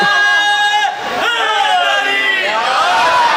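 A crowd at a Chehlum majlis for Imam Hussain raises religious slogans, a loud massed chant of many voices rising and falling in unison, heard close with some hubbub.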